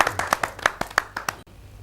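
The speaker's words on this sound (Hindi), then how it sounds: "जोरदार तालियों से आप स्वागत" An audience at a Hindi poetry gathering claps to welcome a poet, with about ten sharp, fairly close claps at an uneven rhythm before stopping abruptly.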